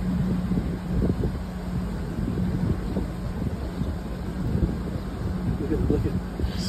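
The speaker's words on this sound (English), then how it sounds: "Windy." Wind on Silver Bay in Silverton, New Jersey, roars steadily into the microphone as a loud, low, broadband rumble that never lets up.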